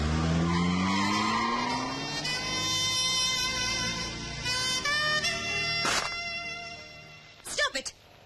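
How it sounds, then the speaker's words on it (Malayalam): A car pulls away with tires squealing and skidding in a loud, rising screech, its engine revving and fading, followed by a few sharp knocks at the end. "ഡ്രൈവർ, വണ്ടി എടുക്കൂ."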